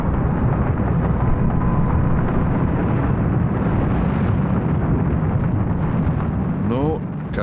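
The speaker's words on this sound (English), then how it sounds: "when the rocket left the launch pad, in those first few moments there was a sort of uplifting feeling" A Soviet rocket lifts off from its launch pad, a steady, loud broadband roar that fills the whole clip without letup, thinning slightly near the end as a faint voice-like sweep appears.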